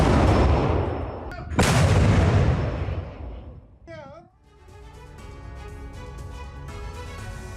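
Russian artillery fire at Avdiivka, Ukraine: two heavy, loud blasts in quick succession with long rumbling decays, then the noise fades and a voice with tonal sound carries on underneath.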